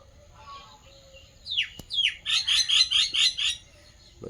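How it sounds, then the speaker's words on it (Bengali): A common myna calls nearby with a few sharp rising notes, then a quick run of repeated chattering chirps, loud and clear against quiet surroundings. "শালিক পাখিটা কোথায় বলে দেন হেভি ডাকছে"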